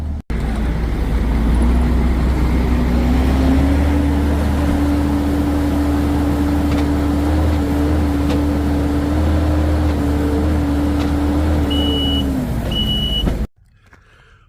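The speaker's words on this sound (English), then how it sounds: "So he's gonna come and take a good scoop right there," A loader scooping chicken litter on a farm and carrying it to a dump truck, its loud, steady diesel drone running without a break for the whole stretch, then a couple of faint high beeps just before it cuts off.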